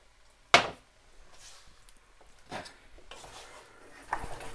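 Onions and vegetables for a base curry sauce being stirred in a pan, with a sharp utensil clack on the pan followed by softer scraping and a few more knocks, close and fairly quiet, with no talking.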